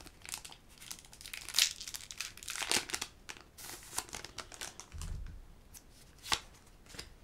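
A Pokémon trading card booster pack wrapper is torn and crinkled open in a run of sharp, close crackles and rustles, with short pauses between bursts.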